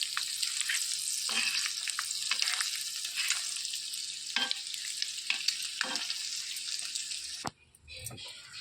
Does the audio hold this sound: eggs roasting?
yes